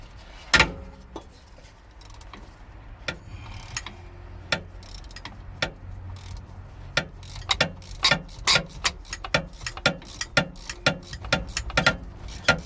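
Wrench turning car bolts on a BMW during an ABS/DTC fault repair: a run of sharp metallic ratchet clicks and taps, sparse at first and then quickening into dense bursts, close and fairly clear.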